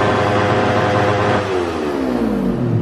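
Revving engine of a new stock motorcycle, loud and close, with a steady roar that rises in pitch toward the end of the short burst; no talking.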